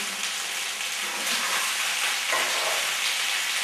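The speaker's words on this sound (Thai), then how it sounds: "เวลาผัดเนี่ยระวังด้วยนะคะเพราะว่ากระเด็นค่ะ" Thai red curry paste sizzles and spatters as it is stir-fried in a pan for vegan red curry with tofu and eggplant, a continuous bright frying hiss with light stirring, close and steady, no talk.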